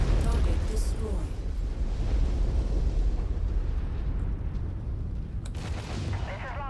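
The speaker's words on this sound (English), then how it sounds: "Target destroyed." An explosion from a destroyed target in the mech combat game MechWarrior 5: a dense, rumbling roar that holds steady for several seconds with a few crackling pops near the end, and a radio voice speaks during it.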